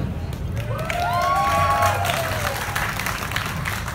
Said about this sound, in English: If he does it with feeling, that deserves a huge round of applause.